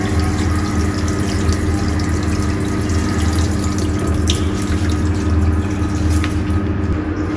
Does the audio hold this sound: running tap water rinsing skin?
yes